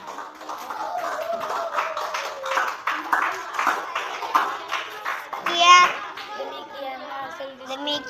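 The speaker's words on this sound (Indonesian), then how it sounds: "tepuk tangan untuk kelompok 5" A classroom of children claps for student group five, a fairly loud, uneven patter of hands mixed with kids' chatter and voices throughout, with a brief louder burst near the end.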